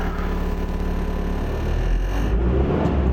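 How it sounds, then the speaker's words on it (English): A diesel engine revs steadily with a deep rumble, the pitch and loudness climbing toward the end; no talking. "Oh my god, today it's revving."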